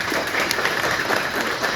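An audience at an official installation ceremony for a departmental director of social affairs applauds warmly, producing a brief, dense wash of clapping that holds steady throughout.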